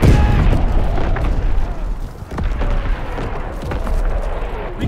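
Strafing run explosions in Call of Duty WWII multiplayer Team Deathmatch: a dense, loud stretch of booming blasts and rumbling detonations that rolls on almost without a break, briefly dipping before swelling again.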